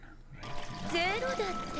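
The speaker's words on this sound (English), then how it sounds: "Whoa, water!" Water splashing and trickling in an anime episode scene, a continuous liquid wash under an excited voice reacting.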